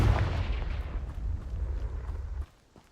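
A Confringo blasting spell goes off in Hogwarts Legacy with a single loud, close explosive boom that rumbles heavily for about two seconds before cutting away abruptly to quiet.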